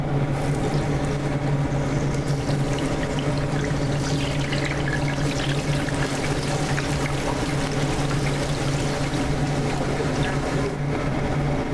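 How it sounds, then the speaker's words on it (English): Continuous bubbling hiss of breadfruit chips deep frying in oil at 350 degrees, steady and loud throughout, with a low machine hum underneath. "Using zero trans fat oil, deep frying it at 350 degrees."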